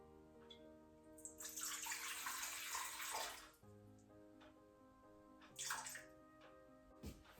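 Water poured into a mixing bowl while making gluten-free, dairy-free coconut rhubarb roll dough, a bright splashing stream for about two seconds, followed by a quieter second pour; faint background tones linger throughout.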